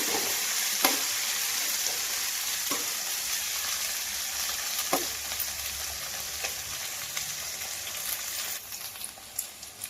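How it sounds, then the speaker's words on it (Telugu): Curry leaves and coriander stirred and fried in a pan for a cashew tomato bath, with a steady close sizzle and a few sharp spoon scrapes and clinks against the metal. "కొంచెం కరేపాకు కొద్దిగా కొత్తిమీర వేసుకుని ఒకసారి మొత్తం కలిపేసుకుని కొంచెం యాగమిద్దామండి"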